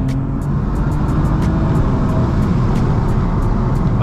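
A 510bhp BMW M3 pulls hard in third gear on a night drive, its engine a loud, steady roar with road noise, heard from inside the cabin.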